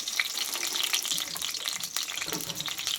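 Two large quartered onions and a few green chilies sizzle in hot oil, a steady bright hiss and crackle holding evenly for a few seconds without speech.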